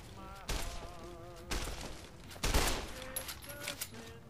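Gunfire in the video game Fallout New Vegas: several loud bursts of shots about a second apart, with game music tones running underneath and brief voice sounds mixed in.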